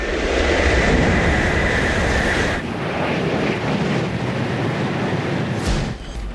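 A high-speed Shinkansen bullet train rushes past as a loud, steady broadband roar that eases slightly partway through and then cuts off near the end, with no voices.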